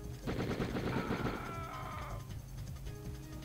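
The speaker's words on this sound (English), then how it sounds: "I got a machine gun" Rapid automatic fire from an M60 machine gun in the Die Hard Trilogy video game, a dense rattling burst that fills the first two seconds, then tapers off into quieter game noise.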